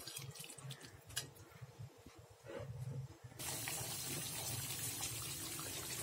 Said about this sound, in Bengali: আমি অল্প করে জল দিয়ে দিলাম।